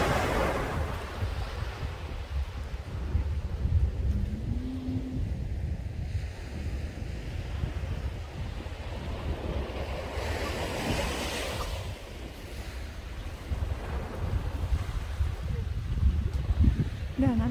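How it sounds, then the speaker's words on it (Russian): Continuous roar of sea waves washing on a shore at Lara, Turkey, mixed with gusty wind buffeting the microphone, steady and fairly loud throughout. "Вот такой шум волны."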